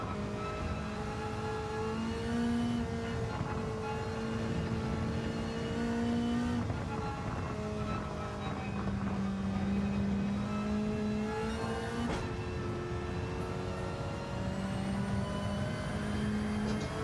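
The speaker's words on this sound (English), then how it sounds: "That turbo flutter is nice." Race car in a racing video game revving repeatedly, its engine note climbing and dropping in several surges with turbo flutter between them, steady and fairly close.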